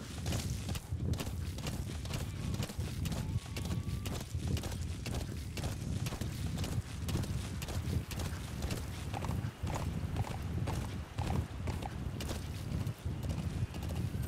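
Horse hooves clip-clopping steadily in Metal Gear Solid V: The Phantom Pain, with an occasional whinny, continuous and fairly close over game ambience.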